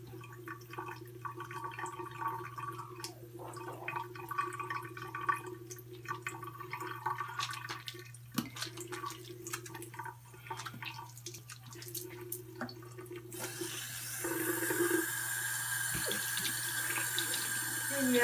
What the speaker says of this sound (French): Ya mwen lave vizaj mwen, mwen rense li.